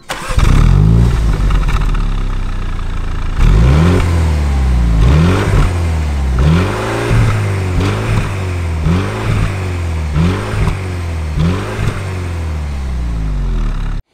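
A 2022 Mini John Cooper Works starts up with a loud engine and exhaust burst, then settles into a close, steady idle broken by a series of sharp throttle blips and revs through its sporty tailpipes, with no talk.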